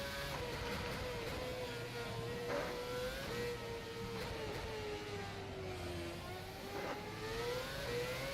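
Race car engine in rFactor 2 on the Singapore circuit, a continuous tonal drone whose pitch dips and climbs through shifts and corners, steady and alone with no talk.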